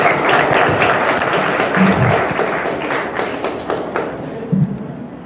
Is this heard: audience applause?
yes